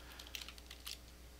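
Quiet typing on a computer keyboard during Java programming, a few light key clicks in short bursts at close range, with no voices.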